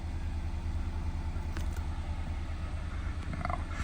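A 2019 Mazda Miata MX-5 RF Grand Touring engine runs steadily in a low rumble with a slight rev at idle, heard up close from inside the car with no talking.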